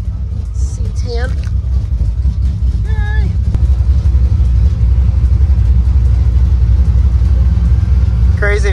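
Steady engine rumble and road noise fill the cab of a moving Chevrolet C10 pickup truck at a drag strip facility, with a few brief squeaks and creaks over the continuous drone.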